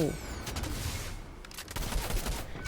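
Fireworks flare gun firing in Fortnite, a busy crackling volley of pops and bangs that rolls on for a couple of seconds, loud and layered like a fireworks burst.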